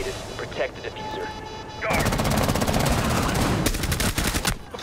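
Rainbow Six Siege gunfire on the Skyscraper map: after a quieter stretch with faint chatter, loud rapid automatic bursts break out, pause briefly, then resume in a fast rattling stream, close and dominant.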